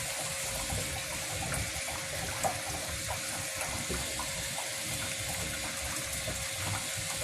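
Water rushes steadily through a household pipe line, likely one feeding a humidifier, making a constant hissing flow with faint mechanical ticks and no voices.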